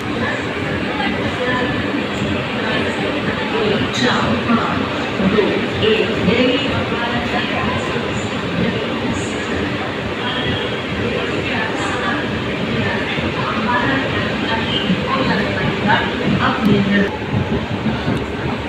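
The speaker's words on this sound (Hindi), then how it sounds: "खुल चुकी है हमारी ट्रेन यहाँ से मुजफ्फरनगर से" Passenger train on the Indian rail line from Muzaffarnagar toward Deoband, heard from aboard as a steady loud rumble with wheel clatter throughout, with a voice speaking over it.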